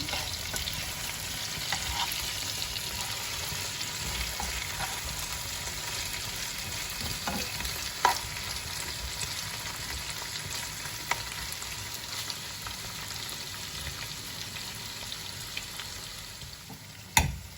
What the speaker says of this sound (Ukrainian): Добавимо овочі до курячого філе. Ну, перемішаємо.